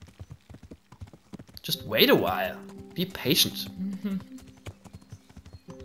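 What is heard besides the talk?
horse hooves approaching in Kingdom Come: Deliverance video game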